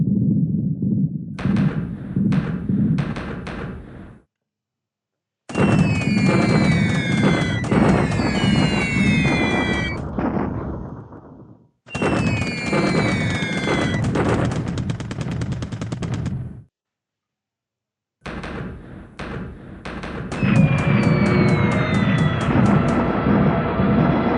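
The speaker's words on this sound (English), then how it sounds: "So now the Pennsylvania have a torpedo hit" Explosions and machine-gun bursts from the War in the Pacific naval game as the battleship Pennsylvania takes a torpedo hit, loud rattling blasts in several separate bursts split by short silences.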